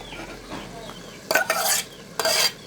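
Ground masala paste is stirred and fried into a chicken curry, or chicken saaru: a soft sizzle, then two loud bursts of scraping spoon strokes in the pan, near and clear.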